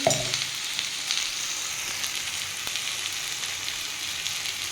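Cauliflower stems sizzle in a pan with cumin, chili powder and turmeric, a close, steady, hissing fry that carries on evenly throughout with no voice over it.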